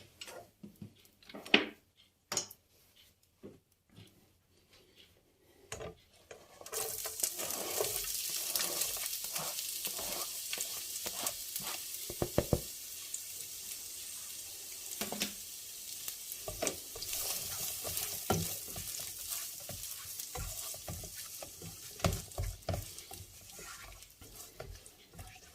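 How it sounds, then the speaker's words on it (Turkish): Green peppers sizzle in foaming butter over low heat for menemen, a steady close frying hiss broken by stirring scrapes, starting after a few quiet clicks and knocks at the pan. "Tereyağımız köpük köpük olduktan sonra içine ilk olarak biberimizi atıyoruz."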